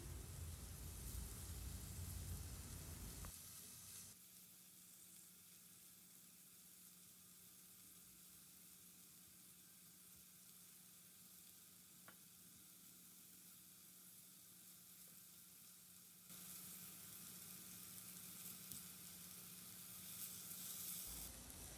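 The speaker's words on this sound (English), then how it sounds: "we will saute the paneer cubes until they turn golden brown from both the sides" Paneer cubes (cottage cheese) sauté in a pan, browning for a butter garlic paneer starter, with a steady sizzling hiss that swells louder at the start and end, with no voices.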